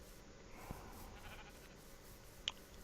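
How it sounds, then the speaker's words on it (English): Sheep bleating in the Minecraft video game, a brief, faint bleat over low steady background noise with no talk. "shear this sheep over here as well"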